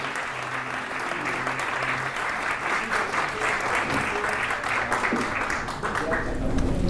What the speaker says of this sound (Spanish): Los invito a sentarse con el fuerte aplauso de toda la gente